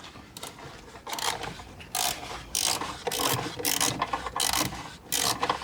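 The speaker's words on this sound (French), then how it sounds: "petit serrage des deux boulons de derrière" A hand ratchet clicks in repeated short bursts as it tightens the two rear bolts on a Tesla Model 3 tail light. The strokes are close and crisp, with brief pauses between them.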